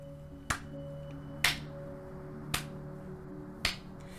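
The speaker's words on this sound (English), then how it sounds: "Slow clap for you, my friend." Four slow, sharp claps spaced about a second apart, close and crisp over a quiet background hum.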